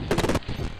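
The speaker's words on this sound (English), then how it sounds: "The heck, sound like gunshots." A quick burst of several sharp gunshots in a Five Nights at Freddy's style VHS tape fires in rapid succession, then gives way to a muffled, quieter tail.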